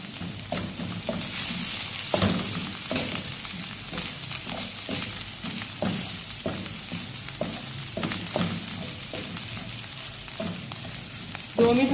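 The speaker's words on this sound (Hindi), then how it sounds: "उस तरह ये बारीक चॉप किया हुआ प्याज डालना है इसमें। तो हम 2 मिनट कुक करेंगे।" Finely chopped onion frying in a pan, a steady loud sizzle with repeated scraping stir strokes at an irregular rhythm, close up and continuous throughout.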